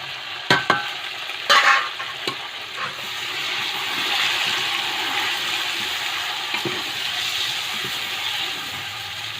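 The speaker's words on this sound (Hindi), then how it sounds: "प्याज लाइट ब्राउन हो गई है। अब इसमें हम टमाटर डालेंगे।" Tomatoes hit light-browned onions in a pan over an open fire, with a few clattering stirs at the start and then a steady, hissing sizzle.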